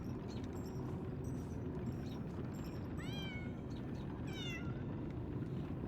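A kitten in the video game Lies of P gives two short, rising meows over a constant loud background rumble of game ambience.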